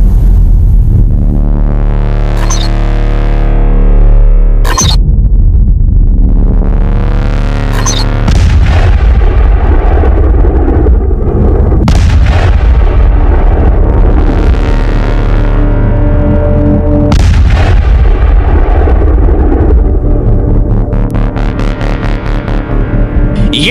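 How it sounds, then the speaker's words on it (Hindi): A pressure cooker bomb goes off in a series of loud, booming blasts, several sharp bursts spread over the span with heavy rumbling decay between them, close and powerful, with no speech. "दमदार धमाका प्रेशर कुकर बम का है।"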